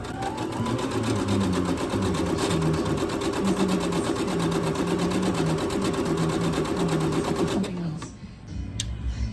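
Sewing machine stitching the elastic casing seam on a tutu: a loud, fast, even mechanical rattle of the needle running steadily for about eight seconds before stopping, followed by a few soft clicks.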